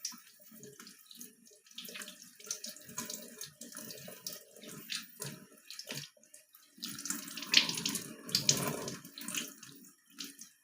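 Tap water runs into a sink while hands and wrists are wetted under it, a close, uneven splashing that surges and breaks as the hands move through the stream, with no speech.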